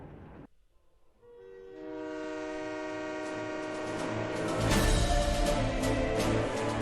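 Train in the video game Secret Files: Tunguska, a sustained rumbling rail-car roar with a loud tonal horn building after a brief quiet start and swelling toward the end, no voices.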